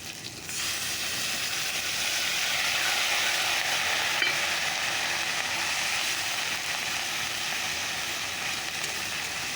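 Spice paste with chopped tomato, onion paste, garlic paste, salt and turmeric sizzles steadily in a pan, a loud continuous frying hiss with faint stirring scrapes throughout.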